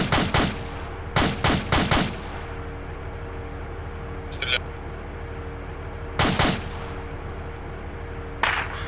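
Bursts of gunfire in the military shooter ArmA 2 with the ACE mod: several loud clustered volleys of sharp shots, a gap, then more bursts, with faint distant pops and a steady low background hum.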